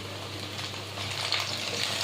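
Garlic paste and chopped tomato fry quietly in a pan, a gentle, even sizzle that grows slightly louder halfway through.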